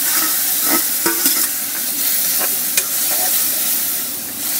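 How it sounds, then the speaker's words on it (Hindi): Onions for a dry prawn curry fry in a pan with a steady, loud sizzle, broken by brief scrapes and clinks of stirring. "हमारा प्याज जो है कि लाल हो गया है, देख सकते हैं हल्का हल्का भुंजा गया है।"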